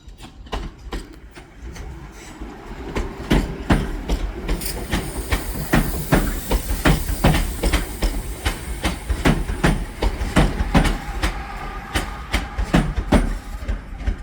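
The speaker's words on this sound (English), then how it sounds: "here we have a terminating northern service from Crewe, 323203" A Northern Class 323 electric unit, number 323203, pulls into a station on a terminating service from Crewe, with steady rolling rumble, hiss and a regular run of sharp wheel clicks over rail joints close by.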